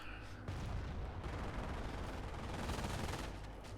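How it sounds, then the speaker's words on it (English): Machine gun fire from a German MG emplacement in Company of Heroes, a dense, continuous rattle of shots that starts abruptly after a brief pause and holds loud and steady to the end, with battlefield rumble beneath. "We do have this MG, which is basically shutting down the American offensive"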